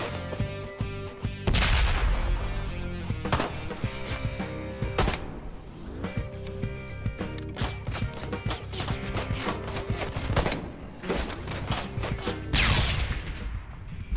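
Video game gunfire in Ride to Hell: Retribution, with repeated loud shots and bursts of rapid fire over a busy game soundtrack, heavy blasts recurring every few seconds.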